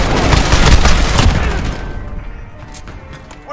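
A cruise missile explodes in Call of Duty, a loud booming blast with dense crackling rumble that swells over the first second and a half, then tapers into a fading tail with scattered distant pops.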